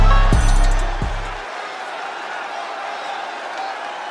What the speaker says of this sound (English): this crowd getting loud for Benny Ritchie